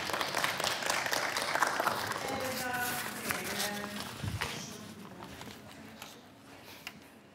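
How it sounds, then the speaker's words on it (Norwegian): Audience applause after a climate speech, a dense crowd clapping that fades gradually, with talk and other sounds mixed in over it. "Nå kan dere klappe."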